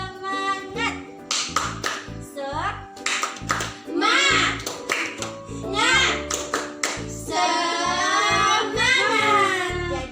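Classroom children perform a rhythmic clapping chant, sharp synchronized hand claps in patterned bursts alternating with their loud chanted voices, close and lively.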